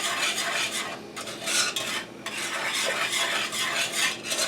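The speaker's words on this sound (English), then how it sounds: "I'm continuously whisking this because I don't want the milk to burn or scald" Milk being whisked continuously in a pot for vanilla pudding: steady, rhythmic metallic scraping and swishing of the whisk against the pot, close and fairly loud, with brief pauses between strokes.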